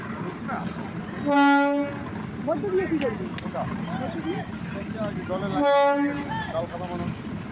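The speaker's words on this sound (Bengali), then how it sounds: "দেখো ট্রেন আসি লাগছে" Train arriving at a station with two loud horn blasts a few seconds apart over a steady rumble, while a person talks nearby throughout.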